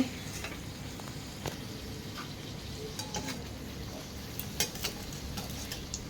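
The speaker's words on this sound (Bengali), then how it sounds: "আমি বেলে দিচ্ছি ও ভেজে নিচ্ছে তাড়াতাড়ি করেই হয়ে যাচ্ছে" Luchi and parathas fry in hot oil in a home kitchen, making a steady moderate sizzle with occasional light utensil taps and clinks.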